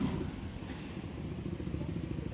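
A motorcycle on a busy street in Pateros at night during Simbang Gabi season gives off a steady low engine rumble with a faint clatter, fairly soft and continuous throughout, with no one speaking.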